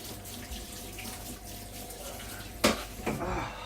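Tap water runs steadily into a sink while a knife is rinsed, a low continuous wash with a couple of sharper splashes and clinks near the end.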